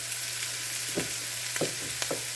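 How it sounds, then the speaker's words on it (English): Sawmill gravy being stirred in a hot pan, a steady soft sizzle with a few light scraping strokes of the spoon, close and alone. "to stir it up and make sure to get it nice and thick."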